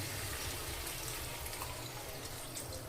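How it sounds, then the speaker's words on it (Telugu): A glass of water is poured into an okra and tomato curry, giving a soft, steady rush of liquid that stays even throughout, faint and close with no voices. "ఒక గ్లాస్ వాటర్ పోసుకుందాం"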